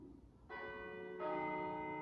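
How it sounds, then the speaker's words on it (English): Church bells ring in Switzerland, a clear sustained peal that enters after a brief quiet and swells as a second bell joins, heard at moderate distance with no talking. "Oh, and hear those bells ringing."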